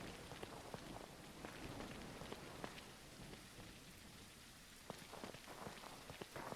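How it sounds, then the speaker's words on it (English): Rain falls steadily in the video game No One Survived, a dense continuous hiss with scattered sharper drop taps throughout, fairly close and even, with no voices over it. "Oh, and here comes the rain."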